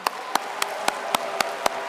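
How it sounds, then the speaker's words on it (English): Regular, evenly spaced claps at a Biafran independence declaration gathering ring out loudly, about eight sharp beats in rhythm, more like one person or a group clapping in unison than scattered applause. "Another round of applause for him."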